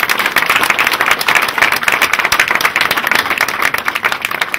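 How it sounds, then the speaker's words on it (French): Dense, steady applause fills the room as an audience claps for an artist at an art exhibition, loud and continuous throughout with no voices standing out. "Elle mérite des applaudissements"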